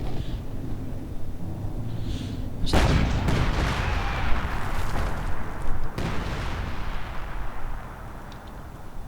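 Heavy tank and artillery fire rumbles through a Company of Heroes 2 battle as an ISU-152 shells a grenadier squad. A few big booms and blasts land over continuous battle noise, loud and close, with no talk.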